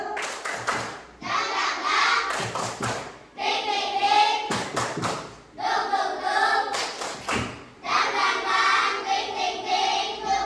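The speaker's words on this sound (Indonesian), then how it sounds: "Yuk, kita tepuk semangat dulu supaya jakinya nggak lemes." A class of fifth-grade pupils performs a rhythmic clapping chant in bursts, loud patterned claps and thumps alternating with short pauses, with children's voices joining in.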